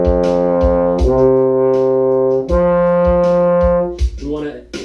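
A voice imitates a brass horn note sounded with a pulsing, tongue-like attack: sustained, close tones broken by rhythmic pulses and short breaks.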